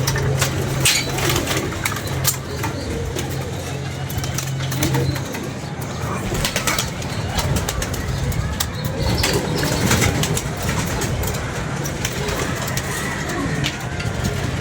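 Pigeons coo and flutter close by in a loft, with bursts of wing flapping and rustling, while people talk over much of it.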